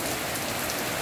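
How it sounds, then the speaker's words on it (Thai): Heavy rain pouring onto a freshly levelled lawn beside a house, a dense, even roar of drops hitting grass and soil, loud and close with no voices. "ฝนตกมา"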